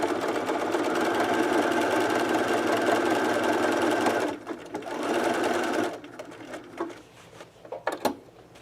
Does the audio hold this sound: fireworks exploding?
no